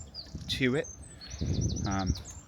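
A voice imitates a yellow-browed warbler's high-pitched call, two short whistled chirps, with a real bird's repeated high tweets running faintly behind.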